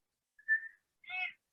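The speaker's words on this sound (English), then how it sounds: "Here's my cat whistle." A person gives a cat-calling whistle: two short, quiet whistled notes separated by a brief pause, the first a thin steady tone and the second a slightly warbled, fuller one.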